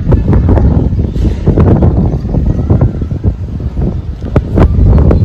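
Strong wind buffets an open rooftop under a cloudy sky on a rainy day, producing loud continuous roaring gusts that rumble across the microphone with no voices.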